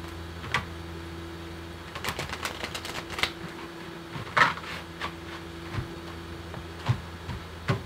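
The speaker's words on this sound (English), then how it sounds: "I'm just going to shuffle one more time." Tarot cards being shuffled by hand at close range, heard as a scattering of short, light clicks and soft flicks spread across the clip over a faint steady background hum.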